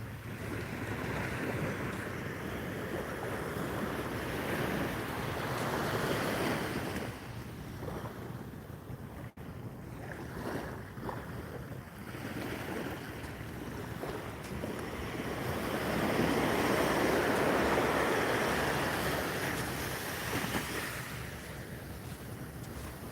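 Ocean waves wash steadily onto a beach where people fish from the shore, with a continuous roar of surf that swells louder late in the clip. Gusty wind buffets the microphone throughout.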